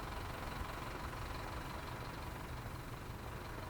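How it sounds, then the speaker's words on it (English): Bus engine idling in the video game Train Sim World 2 on the Isle of Wight at Ryde Pier late at night, a steady, loud, continuous diesel rumble with no breaks or voices. "I can hear one of them bus running again."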